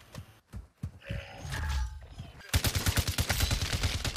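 Loud automatic gunfire rips out in rapid rhythmic bursts during a squad match in Warzone 2, preceded by scattered single shots and movement noise, with a voice talking over the action.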